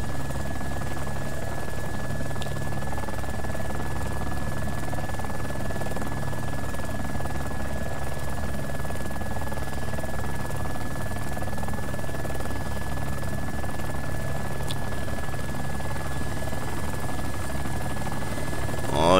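A military helicopter in the DayZ Epoch game flies close by, its steady rotor thrum and engine drone loud and continuous throughout, with a faint steady whine above it.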